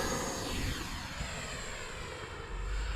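A FLYFANS Red Falcon K-8 RC model jet flies overhead outdoors, making a continuous loud, high-pitched whine that slowly shifts in pitch as it passes.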